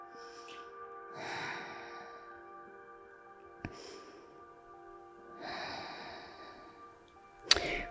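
Slow, audible breaths during a yoga posture stretch, two long breathing sounds a few seconds apart over a quiet room, with a sharp tap near the end.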